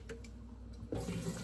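Hot water is poured, a faint trickle that swells into a fuller, louder splash near the end.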